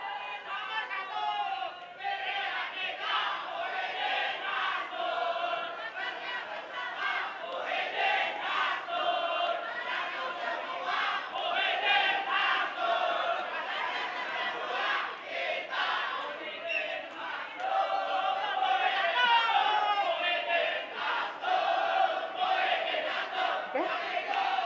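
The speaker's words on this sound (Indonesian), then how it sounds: "kami akan memberikan kesempatan untuk Anda, tim pendukung, memberikan yel-yelnya" Supporters of a gubernatorial candidate pair at a regional election debate in South Kalimantan chant loud rhythmic cheers in unison as a crowd, with shouted voices filling the hall continuously throughout.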